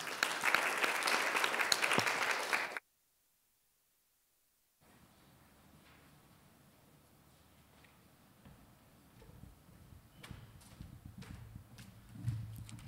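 Audience applause at a talk session on digital and computational learning and teaching rings out briefly and loudly as a speaker heads to the podium, then stops abruptly, followed by quiet room noise and faint shuffling.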